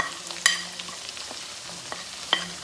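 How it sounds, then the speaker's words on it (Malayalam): Garlic pickle with Kashmiri chilli powder and turmeric being stirred in a pan: a faint, steady sizzle broken by a few sharp scrapes and clinks of the spoon against the metal, with no speech. "എല്ലാം കൂടി ഒന്നിച്ച് ഞാനിടുന്നുണ്ട് നന്നായി ഒന്നിട്ട് ഇളക്കണം"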